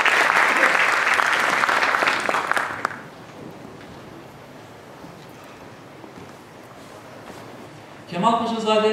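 An audience at an academic symposium on Ottoman scholarship in Istanbul applauds the session chair, a university rector, with a dense burst of clapping for about three seconds that then drops to quiet room noise before a voice begins speaking.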